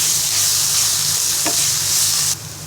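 Ground spices fry with yogurt in a pan for a Bangladeshi liver curry (kolija vuna), making a loud, dense, continuous sizzle up close that drops off abruptly near the end, with no talking.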